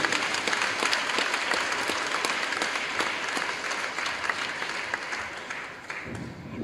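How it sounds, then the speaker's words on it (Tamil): A crowd at a Tamil Christian gathering bursts into steady, loud applause that lasts several seconds, then tapers off at the end. "நல்ல கைதட்டுங்க."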